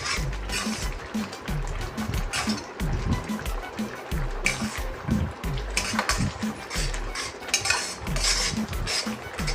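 A raw mango murabba mixture is stirred in a metal pot with a spoon, giving repeated close scraping and clinking strokes in an irregular rhythm.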